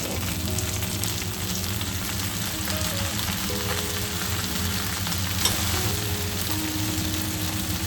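Chicken wings frying in a pan over low heat just after sauce is poured in, giving a steady, close sizzle and crackle that runs on without a break, with a faint tap near the middle.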